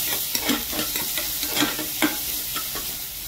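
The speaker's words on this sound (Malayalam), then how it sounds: "ഇതൊന്ന് ജസ്റ്റ് ഒന്ന് ഫ്രൈ ആയി." Chopped ginger and garlic fry in a pan for Kerala-style egg rice, a bright constant sizzle punctuated by a few soft scrapes and taps of a stirring spoon.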